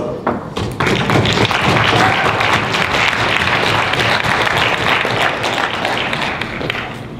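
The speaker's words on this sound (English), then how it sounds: "Let's give another round of applause and thank all of the competitors" Audience applause after the final round of a university debate competition, a sustained dense wash of clapping from a hall full of people, loud and continuous from start to finish.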